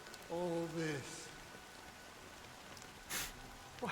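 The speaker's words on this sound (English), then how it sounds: "But it's still raining." Rain falls steadily in the video game Honkai Star Rail, a soft even hiss throughout, with a brief voiced sound early on and a short noisy burst later.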